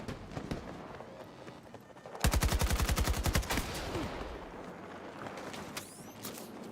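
Automatic gunfire in the shooter game Battlefield 6, a rapid burst of about a dozen close, punchy shots after a quieter stretch of scattered distant pops, with a few sharper single shots near the end.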